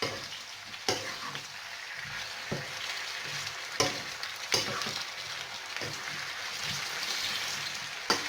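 A tuna and potato omelette cooks in a pan, giving a steady close sizzle and crackle of frying with a few sharp clicks and taps throughout; no talking.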